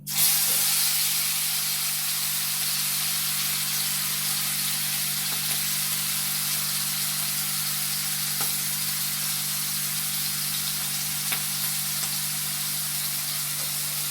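Prawns fry in coconut oil in a pan with a loud, steady sizzle that holds for about fourteen seconds alone, over a faint low hum.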